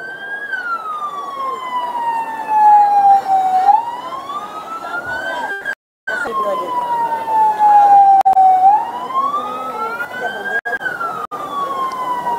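Military fire brigade vehicles at a civic parade in Aracati, their siren wailing loud and near in slow rising and falling sweeps, with a brief cutout partway through.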